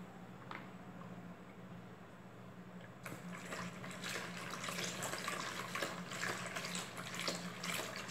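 Liquid being poured into caustic soda while making homemade bar soap, a quiet room hum followed by a steady trickling, splashing flow that starts partway through and continues to the end.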